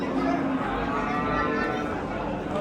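Cattle low amid the murmur of a busy outdoor livestock market in Oqtepa, Bulung'ur district, with a brief moo standing out over steady crowd chatter and nearby voices talking.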